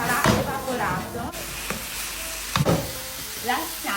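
Pancetta sizzles loudly in a hot pan as white wine is added, a bright frying hiss with stirring scrapes and clatters, while someone talks over it.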